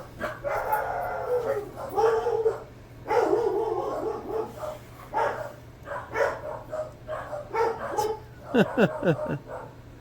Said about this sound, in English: Sorry if you're hearing dogs right now. They're barking at something.